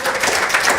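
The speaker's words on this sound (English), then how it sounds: "But I think we should all clap for ourselves." Conference audience applauding at the close of a two-day policy meeting on gender and extractives, a short burst of mixed clapping across the hall.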